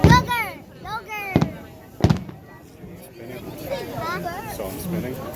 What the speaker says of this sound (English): Fireworks are spinning.